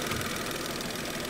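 A car engine at idle, the bonnet open, with a steady, close, even rumble and hum of about 75 dB, no voices, over a short stretch.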